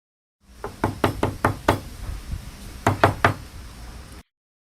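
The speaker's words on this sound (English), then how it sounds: "started knocking the door of an army major" Someone knocks on a village house door at night, six firm raps in a quick run, a pause, then three more, close and loud in a quiet room, with no voices.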